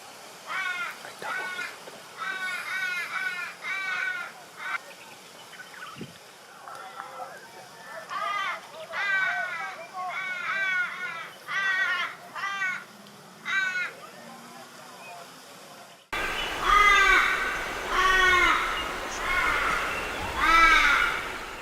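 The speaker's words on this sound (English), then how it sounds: "The Torresian crow is common in the northern half of Australia, where it may interact with other species of crows and ravens" Torresian crows caw over kangaroo roadkill in northern Australia, giving repeated harsh calls in short bursts throughout. The calls turn louder and closer near the end over steady outdoor background noise.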